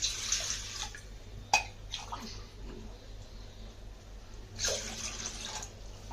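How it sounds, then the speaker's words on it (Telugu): Three glassfuls of water are tipped into a pot for sago porridge, each pour a brief close splash with quieter background hiss between them and no speech. "గ్లాస్ సగ్గుబియ్యానికి 3 గ్లాసులు వాటర్ వేసి ఇది వేస్తున్నాను చూడండి"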